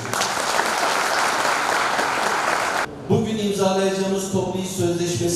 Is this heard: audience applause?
yes